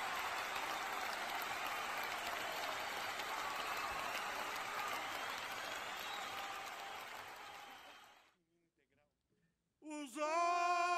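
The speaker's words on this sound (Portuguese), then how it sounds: "e enfim, salva de palmas" Concert audience applauding for a singer-songwriter at a show, a dense, even wash of clapping for about eight seconds that fades into silence before a musical note cuts in.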